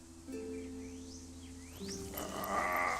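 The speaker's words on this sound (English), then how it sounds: "I thought the zombie was making that noise then." Low, droning zombie growls in The Walking Dead Telltale video game hold steady under faint rising chirps and whistles, then grow rougher and louder toward the end amid hissy noise.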